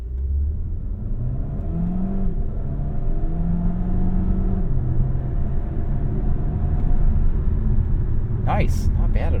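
A 2024 Dodge Hornet R/T Track Pack, a hybrid with electric motors at the rear, pulls hard at full throttle with power boost engaged, giving a steady, loud engine drone with rising whir that builds throughout; a voice speaks briefly near the end.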